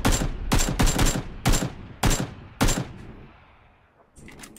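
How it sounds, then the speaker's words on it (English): Gunfire in PUBG rings out as six loud, echoing shots at irregular intervals, then quiets before faint activity returns at the very end. "Keep shooting so he doesn't know where the shots were coming"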